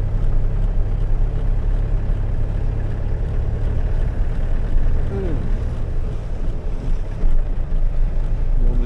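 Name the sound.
icy wind blowing from the south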